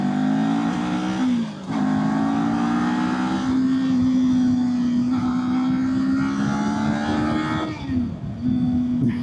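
Kawasaki Ninja 400 entry-level sport bike engine revving steadily close by, pitch climbing and holding with brief throttle dips near two and eight seconds, loud and continuous with no talk.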